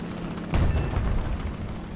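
A bomb dropped from a plane in War Thunder explodes in a single deep, heavy boom that rumbles on and slowly fades over a constant engine drone.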